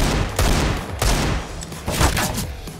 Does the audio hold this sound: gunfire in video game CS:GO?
yes